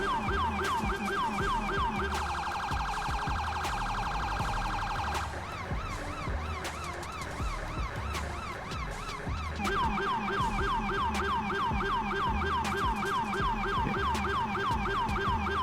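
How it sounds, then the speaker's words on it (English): Several electronic emergency sirens on a police car in a video game wail and yelp in turn, switching patterns partway through, loud and continuous with no talking. "you could add some extra sirens on there"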